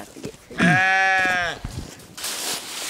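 Sheep on a farm let out a loud, drawn-out, quavering bleat close by, with smaller animal sounds and rustling around it.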